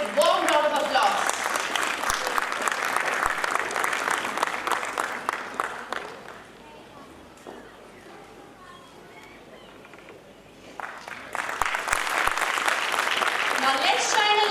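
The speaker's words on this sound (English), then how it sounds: "Let's hear it for her with a warm round of applause." A school golden jubilee award ceremony audience gives a loud, sustained round of applause for a teacher's award, fading briefly to quieter clapping in the middle before swelling again, with talk mixed in.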